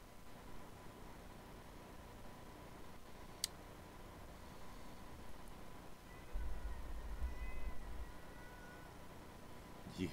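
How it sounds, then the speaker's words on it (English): A cat meows faintly in the background of a quiet room, a soft, brief cry near the end over low steady hiss and a single sharp tick. "Did you hear the kitty?"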